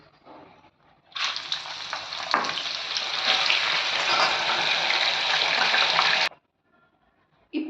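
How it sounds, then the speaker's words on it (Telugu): Dal mixture ingredients frying in hot oil, a loud, steady sizzle that bursts in suddenly after a brief quiet, holds for about five seconds, then cuts off abruptly. "ఇప్పుడు ఇలానే మిగతావి కూడా ఫ్రై చేసేసుకోవాలి."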